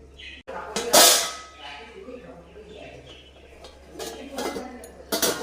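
A metal lid settles onto a pot of simmering fish roe curry with a bright clatter, followed by softer scrapes and clinks and a final knock, with a person talking in between.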